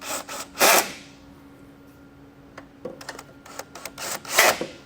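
A power tool drives bracket bolts home on a behind-the-grille air compressor mount for a 5th-gen Toyota 4Runner, with short loud whirring bursts at the start and end and a quieter stretch of clicks between.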